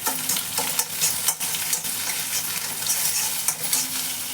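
Egg with a pinch of salt stirred in a hot pan for egg fried rice, a steady close sizzle broken by several sharp scraping strokes of the spatula.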